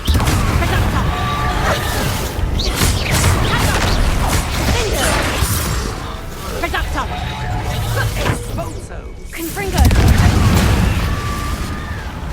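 Repeated explosive spell blasts from the Hogwarts Legacy Confringo curse, booming and crashing in quick succession amid dense game combat noise, with a louder burst near the end.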